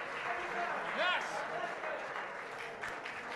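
Audience at a Hollywood cavalcade stage show applauding as a host walks out, a dense wash of clapping with scattered whoops and a voice rising briefly over it.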